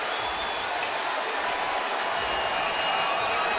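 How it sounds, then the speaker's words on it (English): A basketball arena crowd at the Amway arena gives a standing ovation in a 2009 playoff game, a steady, dense wash of clapping and crowd roar with no break, fairly loud and even throughout. "Standing ovation from this crowd here at Amway."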